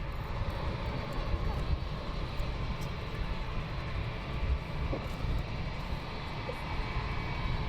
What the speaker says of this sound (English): inbound aircraft